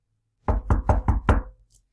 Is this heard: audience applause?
no